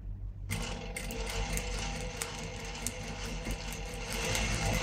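Sewing machine stitching a zip onto a nighty, starting abruptly and running in a steady rapid mechanical chatter close up, with occasional sharper clicks and no talk.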